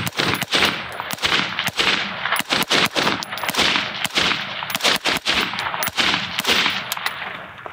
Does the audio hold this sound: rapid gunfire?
yes